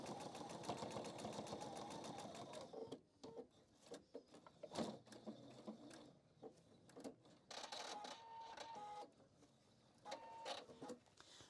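A sewing machine runs steadily while stitching a seam on a fabric handbag organiser, then breaks into short stop-start bursts with clicks and handling noises between them.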